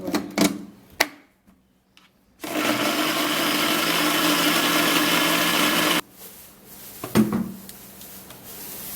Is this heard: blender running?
yes